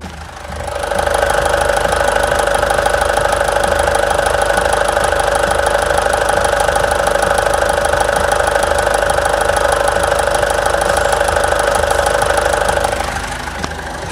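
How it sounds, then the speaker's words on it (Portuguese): A Mitsubishi Triton pickup's 3.2 diesel engine idling in a workshop, a steady, even rumble with a mechanical clatter that holds constant for the whole stretch and fades slightly at the end, no talk. "Olha a lenta desse motor."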